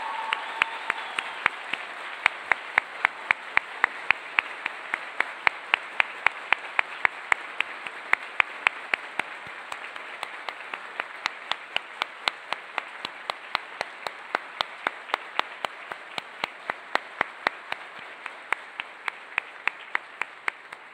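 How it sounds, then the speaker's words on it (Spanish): A graduation ceremony audience in an auditorium claps for a sustained stretch with sharp, distinct claps over a dense wash of applause, heard from some distance without talk. "dense media vuelta y denles un fuerte aplauso en muestra de ese agradecimiento"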